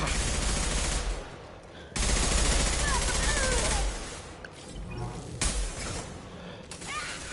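Bursts of gunfire in the sci-fi shooter Mass Effect 2 come in loud, dense volleys separated by short lulls, with a voice speaking briefly between the shots.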